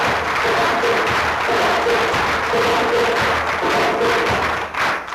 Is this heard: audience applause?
yes